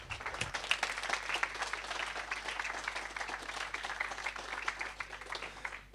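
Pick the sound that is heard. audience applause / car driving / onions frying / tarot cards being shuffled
audience applause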